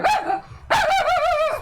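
A dog gives two loud, close barks, a short one followed by a longer, wavering bark.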